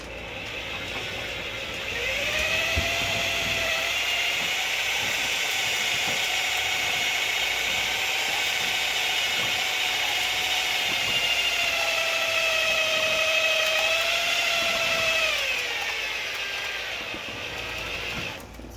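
A motor spins a mandrel as wire coils onto it for chainmaille rings, a steady whirring whine that rises in pitch and holds, with faint ticking, then winds down near the end.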